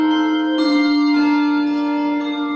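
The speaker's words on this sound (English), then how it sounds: "let's roll that beautiful bell footage" Handbells ring in sustained, overlapping tones, with fresh strikes layering onto a steady ringing chord, close and clear with no talk.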